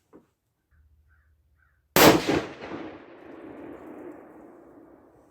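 A single 6.5 PRC rifle shot fired with a Hornady 140gr match load: one loud, sharp crack near the microphone, followed by a long rolling echo that slowly fades over several seconds.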